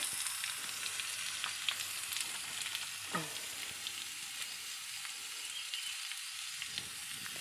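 Shallots and garlic frying in a pan while being stirred, a soft steady sizzle with faint scrapes of the utensil, quiet and close with no talk.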